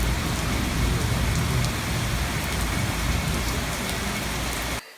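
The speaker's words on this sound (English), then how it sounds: "it was super duper pouring" Heavy rain pours steadily during a thunderstorm in a city, a dense, loud, continuous roar with no talk that stops abruptly at the very end.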